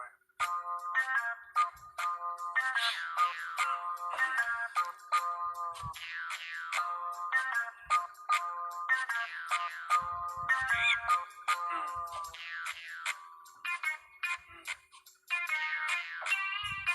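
A phone ringtone plays as an outgoing call rings, a bright repeating electronic melody looping steadily for most of the stretch, close and clear, with only faint handling noises underneath.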